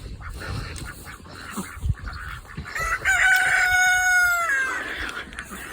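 Chickens and a rooster are let out of a polytunnel on a smallholding: clucking and scattered movement, then a loud, close rooster crow rising over the flock's chatter.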